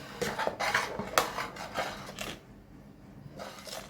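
A utensil scraping and clinking against a pot in short irregular strokes while stirring boiling ragi porridge, with a soft bubbling background and a brief quieter pause.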